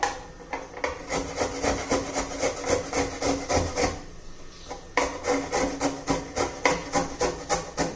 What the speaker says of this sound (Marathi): आता आपण गाजर किसून घेऊया